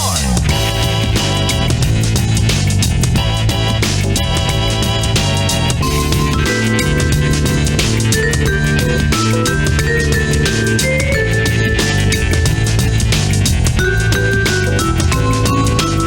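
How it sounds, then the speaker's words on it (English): A hip-hop beat from a rhythm video game's score, with punchy guitar stabs, organ chords and bright xylophone notes over a steady drum groove, playing loud and continuous without any voices. "this really nice hip-hop beat with guitar stabs, organ keys, and a xylophone"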